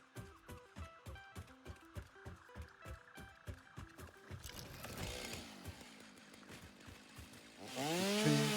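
A chainsaw in the video game Satisfactory revs in a steady series of short rhythmic bursts, then breaks into a longer, louder grinding cut near the end.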